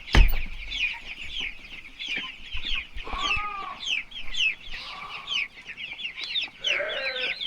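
Several chickens cluck and chatter at a homemade plexiglass feeder, with repeated close, rhythmic clucks and short squawks and no talking.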